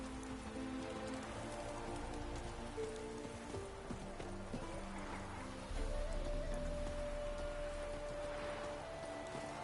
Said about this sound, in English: Like it would rain, and here it is.